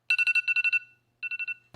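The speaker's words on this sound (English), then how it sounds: "you can put your phone in a large glass cup next to your bed for a loud awakening" A phone alarm rings from inside a large glass cup beside a bed: a quick run of bright, resonant electronic beeps, a brief pause, then a shorter burst. Loud and close, with no voices.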